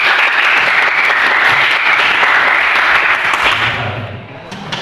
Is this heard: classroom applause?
yes